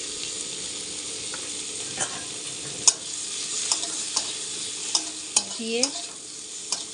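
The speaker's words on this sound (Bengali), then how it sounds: "ভালো করে ভেজে নেব।" Prawns frying with salt and turmeric in oil in a pan, a soft continuous sizzle broken by sharp scrapes and clicks from stirring, with a brief spoken word over it.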